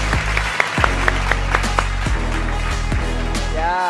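An audience at a Vietnamese TV comedy contest show applauds steadily throughout, over loud, sustained low musical tones.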